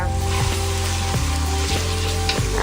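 Minced garlic and its juice sizzle steadily in a hot pan for jambalaya, a constant close frying hiss with faint periodic clicks, no talking.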